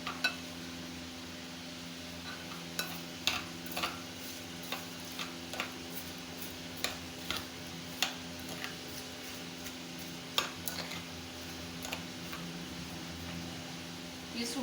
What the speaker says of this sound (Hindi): इसे हम अच्छे से मिक्स कर लेंगे।